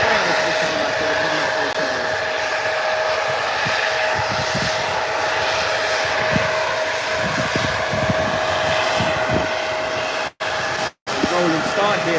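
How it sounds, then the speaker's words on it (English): A Boeing 737 jet at Birmingham Airport makes a rolling start for takeoff, a loud sustained engine roar with a steady whine, building gradually and briefly cutting out near the end. "Rolling start here from the 737. Getting a bit louder now."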